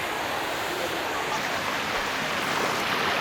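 Water from a valley waterfall in Inje County pours and rushes in a steady, dense roar, close and unbroken throughout.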